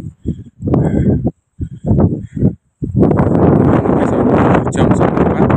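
Strong wind buffeting the microphone on Mount Merbabu near stands of edelweiss, loud rumbling gusts that come in choppy bursts with brief gaps before settling into a steady roar.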